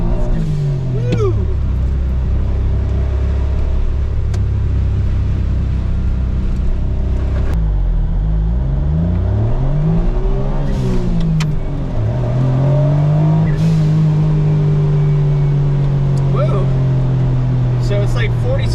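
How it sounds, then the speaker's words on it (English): An Autozam AZ-1 engine revs and accelerates up through the gears in the rain with rising and falling pitch, loud and close, under continuous wet road noise. "I'm driving around in the rain here."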